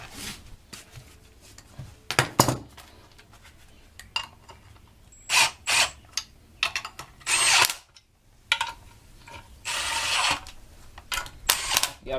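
Power tool tightening the clutch kit bolts on a flywheel during a clutch replacement, heard as repeated short bursts of whirring and ratcheting spread across the clip, with quiet pauses of handling noise in between.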